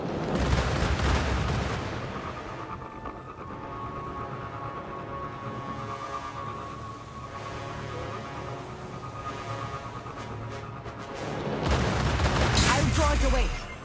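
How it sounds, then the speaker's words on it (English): Cabal Goliath tank firing its cannon in the video game Destiny, heavy booming blasts and rumbling artillery fire thudding repeatedly, loudest at the start and end with sustained battle noise between. "A Goliath tank. Watch out for its cannon."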